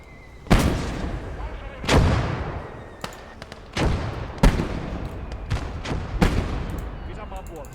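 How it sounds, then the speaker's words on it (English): Mortars fire in a wartime battle game, a series of about six heavy booming blasts at irregular intervals, each thump trailing into a long rumbling decay over steady background noise. "Break them up with mortars."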